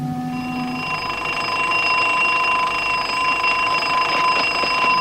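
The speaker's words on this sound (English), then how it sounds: "Sound the alarm." Alarm bell rings continuously for several seconds, a loud, steady metallic ringing with a constant pitch and no pauses, heard alone.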